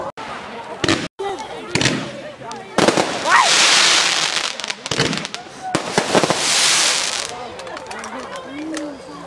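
Fireworks going off on Bonfire Night 2012 on a clear night: loud rapid bangs and sharp cracks, then long hissing, crackling bursts overhead, with people chatting throughout.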